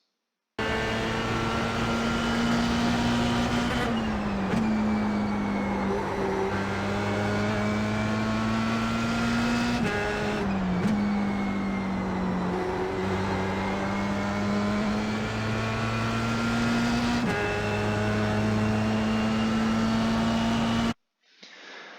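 Formula Sprint open-wheel race car engine at Zolder in the iRacing sim, held near flat out with a steady high-pitched drone, briefly dipping at quick shifts or lifts before climbing again, then cutting off at the end.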